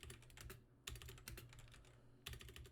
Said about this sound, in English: Also, I gotta get a better keyboard.